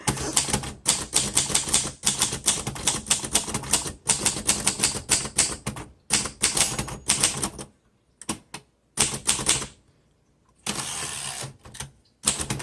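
Rapid bursts of typewriter keystrokes from a 1952 Royal Quiet De Luxe manual typewriter, close and crisp, in uneven runs broken by short pauses and a brief silence, with no talking over them.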